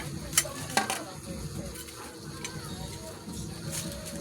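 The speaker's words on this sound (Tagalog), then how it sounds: "yung isda na piniritong hapko." Fried fish sizzling in a pan while being stirred, a steady close frying hiss with a few sharp clinks of utensil against the pan.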